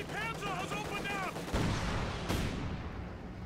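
A heavy Panzer tank cannon booms in a video game match, two deep blasts about a second apart after a brief voice, with rumbling battle noise filling the background.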